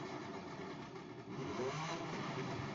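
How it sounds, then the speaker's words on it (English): A motorcycle runs outside, a steady muffled engine rumble that swells slightly as it passes, heard from indoors at a distance with no talk. "I'm sure you guys can hear that motorcycle out there"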